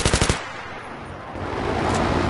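An M249 machine gun fires in Battlefield 3 on the Caspian Border map: a quick burst of about six close, loud shots opens, then a rumbling low background of battle noise follows.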